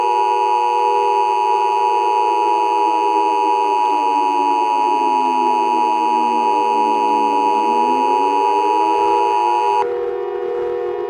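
An Emergency Alert System attention tone for an emergency action notification: a loud, steady two-tone electronic beep that holds continuously for about ten seconds and then cuts off abruptly, leaving faint noise.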